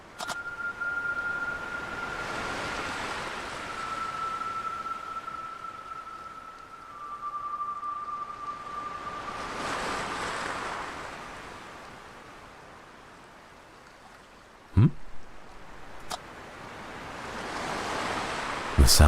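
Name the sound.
ocean waves in the video game Without a Dawn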